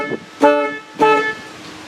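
A 1966 Chevrolet Impala SS with the optional U03 deep-tone horn gives two short, loud honks close by, about half a second apart, with no talking.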